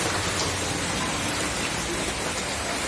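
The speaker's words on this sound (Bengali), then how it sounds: "বৃষ্টি হয়ে যাচ্ছে।" Steady, heavy rain falls continuously around a house that is flooding with water, forming a dense, even hiss that stays at one level throughout with no voices.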